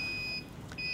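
A ship's navigation alarm from the compass and gyro compass units sounds a steady, piercing electronic tone that briefly drops out, then resumes. The beeping is loud and close, with no voices.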